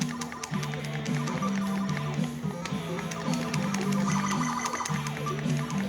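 A recent album plays in the background beside a Raspberry Pi arcade emulator running Omega Race, heard as a steady, dense rock track with a repeating bass riff and no talking.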